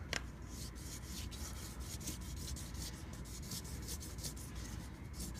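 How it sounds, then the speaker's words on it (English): A SRAM Guide brake lever plunger rubbed with 800 grit sandpaper, a soft, steady back-and-forth scratching repeated in quick even strokes, close and quiet, with no talking. "I like to hold this at a 45-degree angle and sand it back and forth at the same time rolling this."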